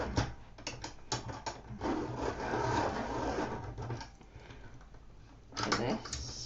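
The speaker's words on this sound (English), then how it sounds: "Right, I need to sharpen." An Inktense pencil being sharpened makes close, grinding, ratchet-like scraping in several bursts, with short pauses between turns.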